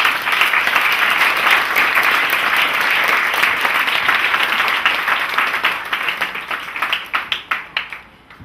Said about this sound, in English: But I really want you to clap for Mrs. Kalango.